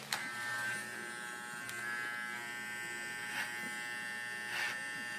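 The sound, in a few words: electric hair trimmer cutting hair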